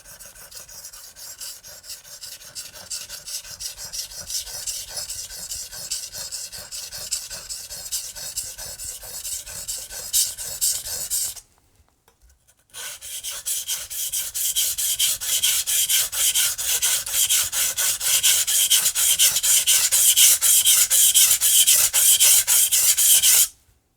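A Wusthof Classic chef's knife scrapes over a whetstone in steady, rhythmic rasping strokes, heard up close and fairly loud, with one brief pause in the middle and slightly harsher strokes afterward.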